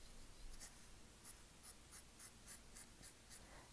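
A pointed pen scratches short, quick strokes across paper while drawing a flourished Christmas garland, a string of faint close-up scritches in an irregular rhythm with no voice.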